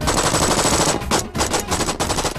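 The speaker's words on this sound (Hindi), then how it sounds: "चलाओ गोली, चलाओ भाई गोली चलाओ" Rapid automatic gunfire in a dubbed action film scene, dense bursts of shots rattling loudly with brief gaps between volleys.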